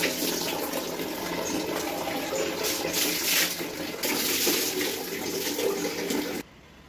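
Water runs steadily in a bathroom as a young girl is bathed before school, a continuous close splashing flow that cuts off abruptly near the end.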